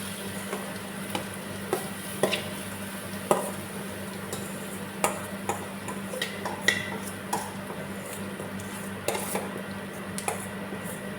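Beetroot stirred into a pan of popped mustard seeds for beetroot poriyal, with scraping stir strokes and small clinks recurring every second or so over a steady low sizzle.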